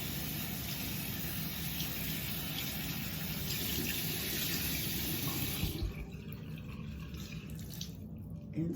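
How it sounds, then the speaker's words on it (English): A tap runs steadily while a face is rinsed at a sink, giving a close, constant hiss of flowing water that thins out and turns to splashes and drips near the end. "So we're gonna rinse my face off."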